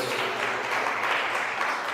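Applause from a church congregation fills the whole moment as a dense, steady wash of many hands clapping, fairly close and even in loudness.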